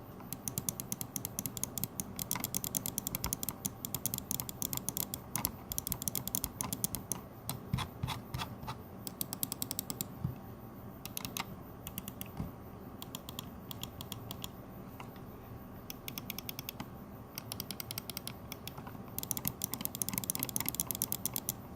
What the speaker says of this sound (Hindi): ये गेमिंग स्विचेस माउस को एक कैरेक्टरिस्टिक क्लिकी नॉइज देते हैं।